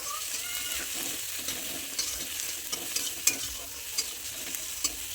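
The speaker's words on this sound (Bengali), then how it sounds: "এই পেঁয়াজ টমাটো কাঁচা লঙ্কা যখন তেলে যখন ভাজছো নাড়াচাড়া করছো" Onion, tomato and green chili fry in hot oil while being stirred, a continuous sizzle broken by repeated scraping clicks of the spoon against the pan, close and moderately loud, with no talking.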